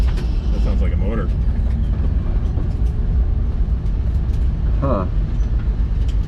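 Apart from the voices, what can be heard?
car motor at autocross, 1968 Camaro event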